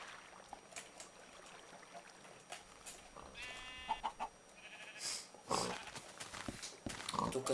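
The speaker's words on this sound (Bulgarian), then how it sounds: "Тука са ми свинете и кокошки." Minecraft farm animals, pigs and chickens, make short bleat-like grunts and clucks in a quiet game scene, scattered over several seconds amid game sound effects.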